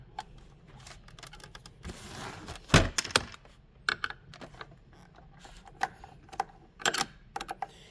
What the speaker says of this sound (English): So we'll remove this plate.